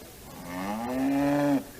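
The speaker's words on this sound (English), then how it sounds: "My cow won the club prize." A cow moos in the video game Tuning in the USA, at a livestock show where she won a club prize: one long, loud, close bellow that slides up in pitch and cuts off abruptly.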